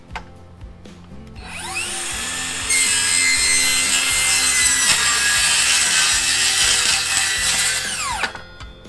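A power saw bites into the end of a glued-up wooden flag panel, a loud, high whining cut that winds up, holds steady for several seconds and winds down, heard alone and close.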